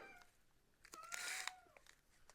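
Cats fighting, yowling and meowing in short bursts, a louder drawn-out cry in the middle, fairly quiet overall with no talking.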